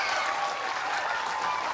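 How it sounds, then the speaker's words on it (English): Football stadium crowd at an A-League match between Adelaide United and Canberra United, a dense sustained roar of cheering and applause that holds steady without a break, loud and enveloping. "And the cheers dissipate as they realise that Adelaide have not hit the back of the net"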